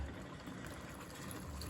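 Water poured over harira soup ingredients, with braised lamb and a knob of butter, in a pot, a continuous soft rushing fill with no pauses and no speech.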